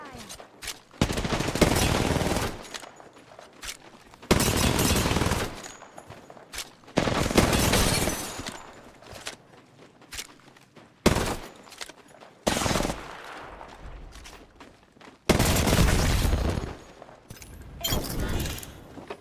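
Video game gunfire in loud, dense automatic bursts, several separated by short pauses, sharp and close-sounding throughout.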